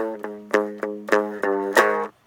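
Slowed-down heavy metal guitar riff, picked on the bottom string and ending on a power chord. About six distinct, ringing distorted notes with sharp attacks play alone, the last one loudest before a sudden stop.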